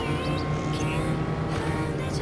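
A car engine drones steadily in the open-world video game Neverness to Everness, a continuous close motor hum with road noise and no talking.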